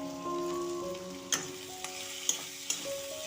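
Masala with tomato sizzles and crackles in a pan for an egg curry with cauliflower, carrot and potato, with a few sharp clicks of a spoon scraping as it is stirred over steady frying, no voices.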